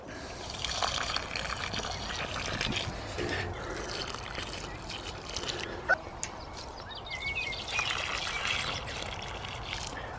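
Water is poured from a container into holes planted with leeks in a garden, a steady gushing, trickling pour with a faint splash, close and continuous with a small knock partway through.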